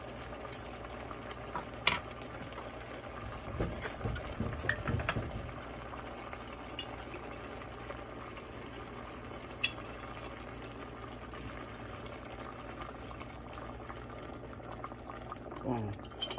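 A beef chunk simmers in a Dutch oven with water and minced garlic, giving a soft continuous bubbling and sizzle, with a few brief clatters and stirring noises partway through.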